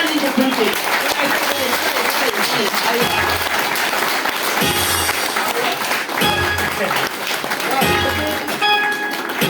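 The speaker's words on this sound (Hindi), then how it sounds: "DXN के लिए एक बार जबरदस्त ताली होनी चाहिए, बजा लीजिए खुल के।" A large audience at a DXN event claps loudly and steadily, a dense wash of applause with surges and some crowd voices and music mixed in underneath.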